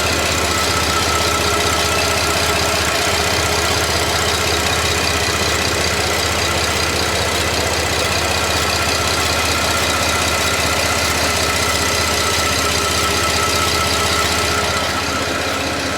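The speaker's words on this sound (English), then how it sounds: "now I'm standing in front of the engine." A car engine idles steadily up close, a continuous low rumble with a faint knocking texture and no voices.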